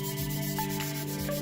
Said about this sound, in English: Just side to side, and it's going to clean off and sharpen